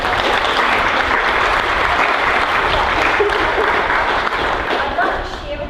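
An audience claps in sustained, dense applause, loud and even throughout before tapering slightly at the end.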